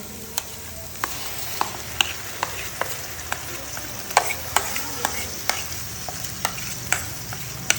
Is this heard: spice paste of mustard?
yes